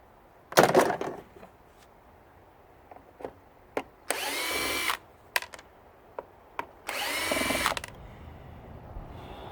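A power drill backing screws out of a carpet cleaner during a teardown, with two sustained whirring bursts of a few seconds each, plus a louder start burst and scattered clicks and taps of parts being handled.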